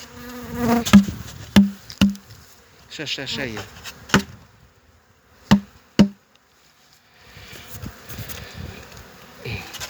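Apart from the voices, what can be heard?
honeybees buzzing in opened hive at apiary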